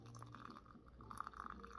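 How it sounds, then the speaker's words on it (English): Hot water poured into a gourd of prepared mate, a faint close trickle and gurgle that runs for under two seconds with no voices. "It's already prepared, so we just need to add some water."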